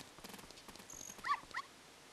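A dog barks twice in The Legend of Zelda: Ocarina of Time, short and faint over quiet game background sounds.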